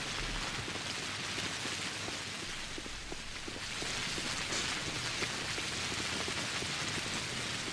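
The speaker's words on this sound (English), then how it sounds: "With the rain pouring as it is." Steady heavy rain pours down in the video game Pathologic HD, a dense continuous hiss of drops on surfaces that fills the whole stretch without pause, with no voices over it.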